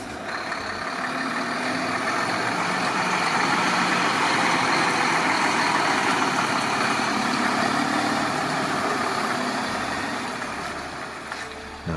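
A delivery truck's engine rumbles steadily for several seconds, a continuous broad, moderately loud drone that rises slightly in the middle and eases off toward the end, with no talking.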